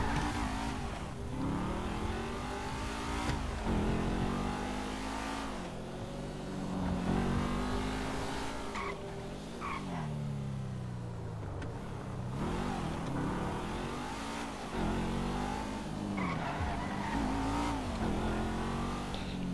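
Car driving in the video game GTA 5, with a continuous revving engine that rises and falls as the car accelerates and slides, accompanied by tire noise, close and steady throughout.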